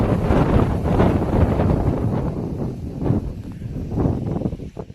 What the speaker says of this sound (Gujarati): ખાલી પવન જ આવી થયો છે